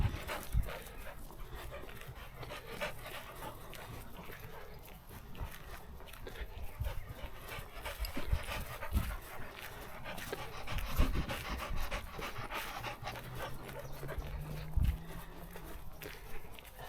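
A dog pants rapidly and steadily close to the microphone outdoors on a sunny day, with faint footsteps and rustling mixed in at low volume.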